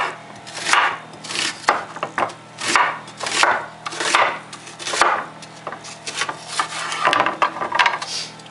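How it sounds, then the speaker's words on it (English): A kitchen knife rapidly chopping food on a cutting board while preparing a beef dinner, with a steady run of close, crisp strikes across several seconds and no talking. "I'm going to give a quick chop."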